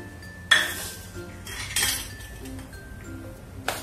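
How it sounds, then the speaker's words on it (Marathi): A metal spoon clinks and scrapes against a bowl while hot, smoking oil is worked into flour for dal bati dough, giving a few sharp clinks and brief scraping bursts with quiet gaps between them. "आणि चमच्याने चांगलं मिक्स करून घ्यायचं"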